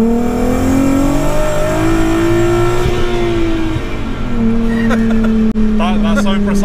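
A VW Mk2 Golf R32 with a swapped engine revs hard under full acceleration, a loud rising drone heard from inside the car that dips briefly between gears, with voices talking near the end.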